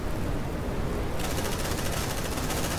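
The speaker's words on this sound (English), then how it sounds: "Light him up! Suppressive fire!" Suppressive gunfire in the Aliens: Dark Descent game, a dense continuous burst of rapid shots that stays loud and steady with no pauses.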